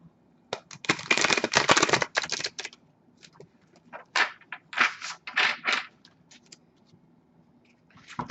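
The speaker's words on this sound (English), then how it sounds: "I just want to make sure I give it a really good shuffle." Bursts of rapid riffling and flapping as tarot cards are shuffled close by, several quick shuffles separated by brief pauses and soft taps.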